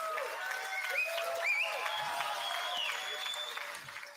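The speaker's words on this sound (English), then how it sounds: "Let's have a round of applause for Tone" Studio audience applause on a crypto news show, a short burst of clapping with some whoops and voices mixed in, steady at first and tapering off toward the end.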